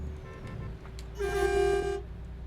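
An MAN TGX truck's horn sounds in Euro Truck Simulator 2 on a Turkey map mod, one held tonal honk of about a second over a low engine drone.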